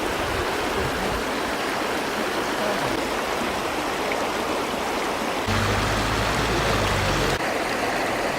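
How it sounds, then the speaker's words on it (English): Glacial stream water near Milford Sound, New Zealand, rushes in a dense, continuous broadband roar, steady and close throughout, with a slight deepening of low rumble near the end. "Glacial water from the stream."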